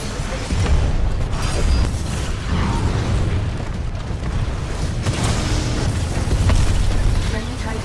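Titan blowing up in Titanfall 2 multiplayer, loud booming blasts and crashing debris layered over constant battle noise, with voices talking across it.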